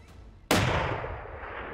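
A single loud hunting gunshot fired outdoors, a sharp blast that rolls off into a long fading echo after a quiet moment.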